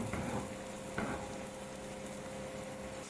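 Keema paratha sizzles in a pan with ghee and oil, a soft continuous frying crackle with a couple of brief louder spatters near the start, quiet and close, with no voices.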